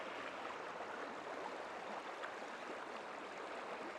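Water flowing steadily through Rock Creek in Washington, D.C., a dense, even rushing wash heard up close without pause from start to finish, no voices.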